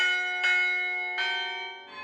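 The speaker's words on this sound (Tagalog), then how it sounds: "Kung hatakin mo po pababa, yung hammer niya po sa taas po maghahampas po doon sa bell para po tutunog po yung kampana" An antique church bell in Iloilo struck by its hammer rings out with two clear strokes, each decaying into a long sustained tone, and a third strike arrives softly at the end.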